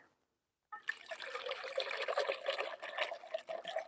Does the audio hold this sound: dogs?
no